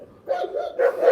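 A dog barks in a park, a couple of short, close yips and barks over a steady background, with no talk.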